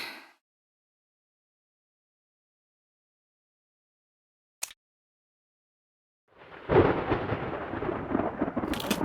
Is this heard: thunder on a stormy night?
yes